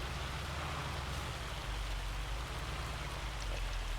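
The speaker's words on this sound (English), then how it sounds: "I'm not going to do a job in this rain" Steady heavy rain in the Farming Simulator 25 video game, a dense, constant hiss of drops hitting surfaces that stays even and loud throughout, with no voices.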